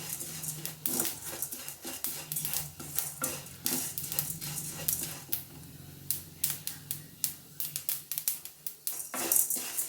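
Curry leaves fry and get stirred in a kadai for a spicy powder. Rapid, irregular crackles and pops mix with metallic clacks of the spoon against the pan, close and fairly loud.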